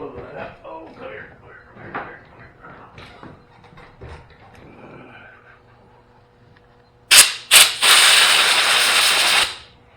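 Compressed air blasts through the carburetor screen of a Briggs & Stratton lawn mower in two short, loud bursts and then a steady hiss lasting about two seconds, after someone talks quietly over workshop handling sounds.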